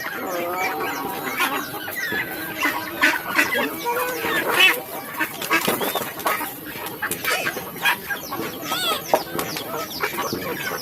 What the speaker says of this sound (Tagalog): Ayan yung pato, tapos peking duck.